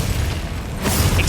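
A Glacius freezing spell is cast in Hogwarts Legacy, a dense booming whoosh with crackling texture that swells brighter toward the end of the brief burst.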